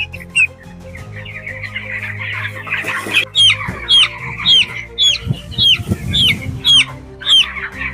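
Broiler chickens with a cold cluck and squawk in a steady series of short, sharp calls, close by, with a low hum underneath.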